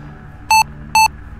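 Two short, loud electronic alarm beeps, evenly spaced, over a low background hum in the ReEntry space flight simulator game.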